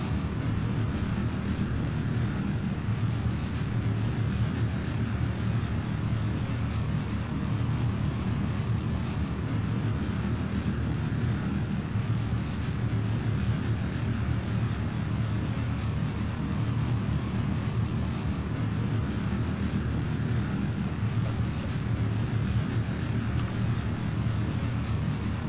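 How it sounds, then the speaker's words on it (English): Twin KS25 rocket engines in Kerbal Space Program throttling back, a steady, dense low roar holding at even loudness throughout with no break or voices. "Vehicle's now throttling back to twin KS25s"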